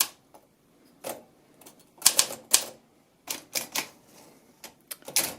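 Uneven, scattered typing on an Olympia typewriter, with sharp key strikes and short gaps between them, heard close up in a quiet room.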